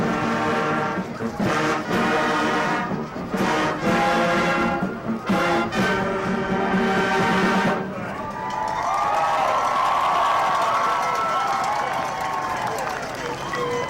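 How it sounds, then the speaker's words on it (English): Crowd at a Carthage vs La Grange high school football game cheers and applauds a marching band, a broad roar that swells over brass playing, then carries on alone as the band's music fades. "They almost get as much applause as the Bulldogs"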